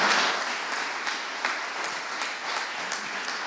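Applause at an award ceremony for fair-trade school classes, honouring a school community's donation, a dense steady clapping from a crowd with scattered louder claps standing out.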